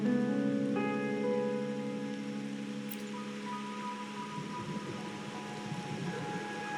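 Rain falling in Ragunna in the Wuthering Waves game, a soft, steady hiss of drops on surfaces beneath sustained musical tones, with no talking.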